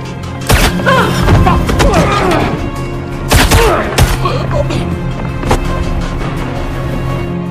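Gunshots ring out in an action film scene where a treacherous secret agent attacks, with a few sharp, loud bangs standing out over a dense, rumbling soundtrack.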